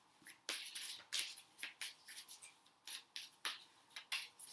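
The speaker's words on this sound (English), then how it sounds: "Let's give these cards a shuffle." A deck of cards being shuffled by hand, a series of quick riffling and rubbing bursts repeating at a brisk, uneven rhythm, close and fairly quiet.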